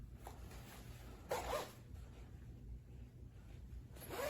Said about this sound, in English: Nice zippers.